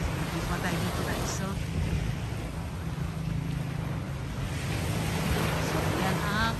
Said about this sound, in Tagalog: So yan ang Aroma Beach.